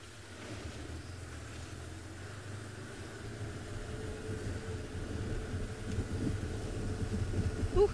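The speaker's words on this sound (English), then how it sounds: "Ooh, it is so windy." Wind blows steadily outdoors in the bush, a faint, low, rumbling rush of buffeting against the microphone that slowly grows louder over several seconds.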